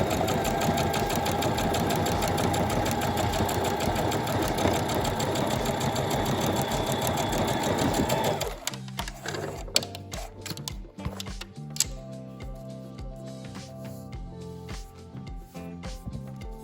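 A sewing machine runs a continuous line of top stitching on fabric, a steady close whir for about eight seconds, then stops and leaves scattered clicks and handling noises of the machine and cloth.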